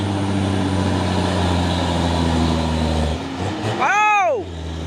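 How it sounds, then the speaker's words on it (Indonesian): Hino tanker trucks carrying crude palm oil rumble past, a steady low engine drone followed near the end by a loud whooshing pass-by with a sweeping pitch as one truck goes close. "Banyak truk tangki CPO pemain Hino."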